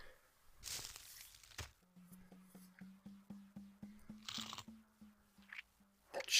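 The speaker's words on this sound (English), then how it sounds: "That chewing animation's so good." Chewing from the video game The Neverhood: a run of about a dozen wet, crunchy bites in steady rhythm, with a faint low tone under each bite and louder rustling bursts around them.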